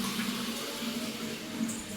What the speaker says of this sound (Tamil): இந்த ட்ரம்முக்கு தண்ணி ஊற்றிட்டு இருக்காங்க